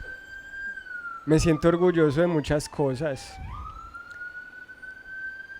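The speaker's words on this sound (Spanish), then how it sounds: "Es por la ambulancia" Emergency siren wailing outside, a steady tone heard faintly behind someone speaking Spanish indoors, then dipping and rising again as it passes.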